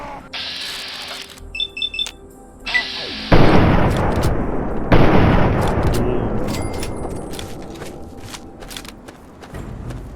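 Gunfire and heavy booms in Fallout 3 around the Jefferson Memorial during a fight with super mutants: loud, dense blasts that crash in repeatedly, layered over game tones and beeps, with no voices over them.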